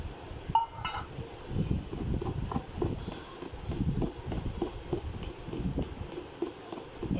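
Mango cake batter for an eggless chocolate mango cake being whisked in a bowl: a quick, steady clatter of the whisk against the bowl repeats closely, with a few sharper clinks early on.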